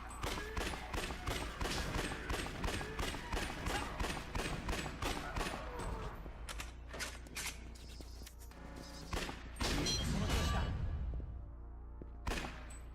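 Gunfire in the video game Yakuza Dead Souls, a rapid stream of sharp automatic shots for several seconds, then scattered single bursts and a heavier blast, loud and up close.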